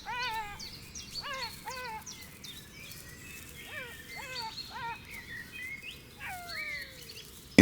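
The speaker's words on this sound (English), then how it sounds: "the first insects of the day mingle with the bird song that echoes across the steppe" Birdsong at dawn across the African steppe, several clear descending whistles and chirps repeating in short phrases over a soft background hiss, moderately distant and gentle.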